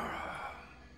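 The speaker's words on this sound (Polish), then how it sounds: "ziewnął sobie." A game character in Gothic 2 gives a single drawn-out yawn, a breathy exhale that starts fairly loud and slowly fades over about a second, with no talk over it.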